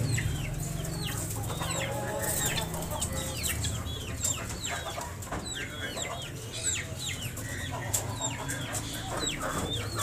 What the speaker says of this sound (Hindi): ये सील मुर्गे हैं और बहुत तगड़े मुर्गे हैं।